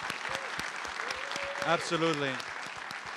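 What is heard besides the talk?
live audience applause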